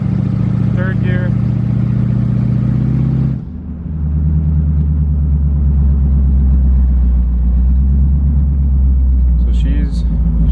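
A 1985 Chevrolet C4 Corvette running open headers drives in third gear, its loud, deep exhaust rumbling steadily, with a brief drop around a shift and a voice talking over it.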